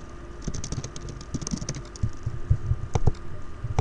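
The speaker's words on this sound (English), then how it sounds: "Then you want to type in vDowloader, free download." Steady typing on a computer keyboard, close and clear, with irregular bursts of key clicks and heavier thumps like the space bar, no talking.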